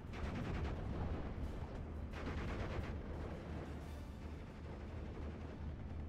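Mortar and artillery fire booms in a war video game between Axis and Allied forces, with several faint, distant-sounding blasts spread over a low rumbling background.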